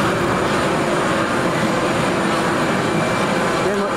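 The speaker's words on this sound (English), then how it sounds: "Finnair's about to go." A Finnair airliner departs Manchester Airport in heavy rain, a loud steady broadband jet roar filling the scene, with people chatting over it.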